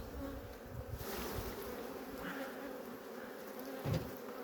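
Honeybees at a hive in Antalya, bringing in pollen, make a close, continuous buzzing hum with a few louder passes as individual bees fly near.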